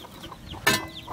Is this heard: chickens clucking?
yes